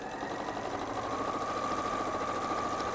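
A sewing machine runs steadily while stitching the side seams of a dress, a close, continuous mechanical whir with a fine rapid needle rhythm and no pauses.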